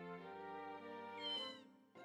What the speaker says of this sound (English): Oh, what a cute cat.